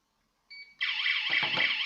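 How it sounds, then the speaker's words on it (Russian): A Stražnik SOKOL car alarm's internal siren sounds: a brief two-tone chirp, then a loud, harsh continuous siren blaring close up. "Сработала внутренняя сирена."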